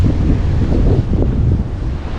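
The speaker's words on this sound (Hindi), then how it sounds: "पानी की लहरें हैं वो भी काफ़ी बड़ी बड़ी और तेज़ हैं।" Heavy rumbling surf of large, strong waves at Barceloneta beach, Barcelona, mixed with strong wind buffeting the microphone, a continuous loud wash of water with no voices.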